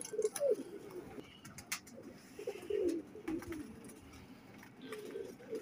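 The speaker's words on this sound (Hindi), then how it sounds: "चांदी आंख में रामपुरी कबूतर है" Pigeons coo from a tree where a Teddy female and a silver-eyed Rampuri male are paired, giving repeated soft throaty coos in short bursts, fairly close, against a quiet outdoor background.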